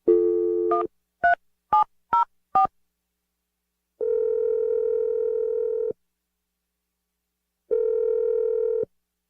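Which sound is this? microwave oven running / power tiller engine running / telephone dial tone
telephone dial tone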